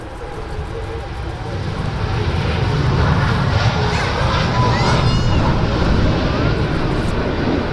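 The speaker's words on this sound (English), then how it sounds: "787 Dreamliner there heading out to" A Boeing 787 Dreamliner takes off from Manchester, bound for Montego Bay, its engine roar building steadily into a loud, sustained broadband rumble with a hissing high end that holds throughout.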